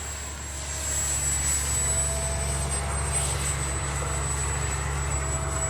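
A Freewing F-22 70mm electric ducted-fan RC jet takes off, its fan rising from a hum into a sustained loud, steady high-pitched whoosh and whine that holds for several seconds.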